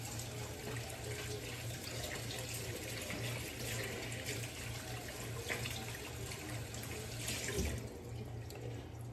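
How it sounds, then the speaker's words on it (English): Tap water runs steadily into a kitchen sink while hands are washed during meatball and meatloaf prep, a continuous close hiss with small splashy shifts throughout and no talk. "So I'll wash my hands again."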